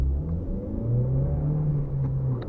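An Opel Astra pulls away from a standing start, its engine giving a loud, close low rumble that rises steadily as the car accelerates, with no talking over it.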